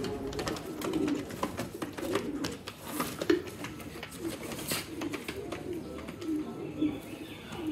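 Sialkoti pigeons kept by a breeder coo repeatedly in a low, murmuring chorus, with occasional chirps and faint wing flutters against a constant outdoor background.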